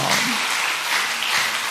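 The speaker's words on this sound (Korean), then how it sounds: "하나님 앞에 영광과 감사의 박수 한번 올리겠습니다" Church congregation applauding together during a Sunday service, a dense steady wash of many hands clapping from start to finish, fairly loud and close, with no voices rising above it.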